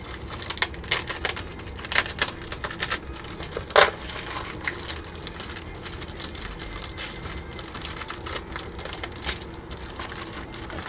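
Plastic parts bag from a Tamiya 1/32 scale F-51D Mustang model kit crinkles and crackles up close as it is cut open, with scattered sharp snips and rustles, one brief louder crunch midway.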